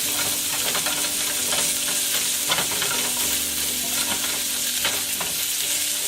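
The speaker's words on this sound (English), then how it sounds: "I'm just going to saute that a bit." Food sautéing in a pan for a Cornish hen dish, a steady sizzle with intermittent stirring scrapes and clicks throughout, close and continuous with no voices.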